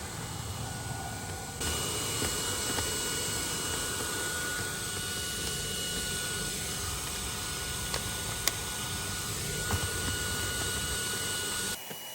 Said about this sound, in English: The best thing about this vacuum cleaner is it is cordless.